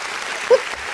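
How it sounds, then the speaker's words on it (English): A crowd applause sound effect plays as a dense, steady wash of clapping for about a second, with a brief voiced sound rising over it midway. "And the crowd goes wild."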